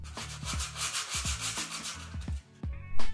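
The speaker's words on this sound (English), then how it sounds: "by hand scuff out any irregularities before I put the seal on" A 70-year-old hardwood floor is scuffed by hand before sealing, giving rhythmic close rubbing and scraping strokes, roughly a stroke every half second, loud and alone.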